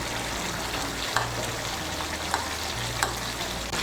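Ghee, sugar and chopped green chillies sizzle in a pan for a vegetarian young-jackfruit dish, a steady frying hiss broken by three or four light clicks of a spoon stirring.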